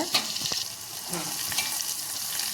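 Garlic frying in a clay pot, a steady close sizzle with a few brief stirring scrapes and no talk.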